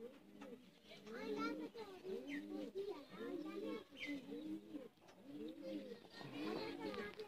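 A female Sialkoti pigeon coos in a repeated rhythmic series of soft, throaty calls, heard close up with faint background noise.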